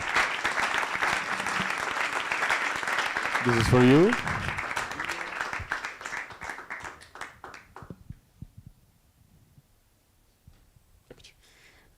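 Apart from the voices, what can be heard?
audience applause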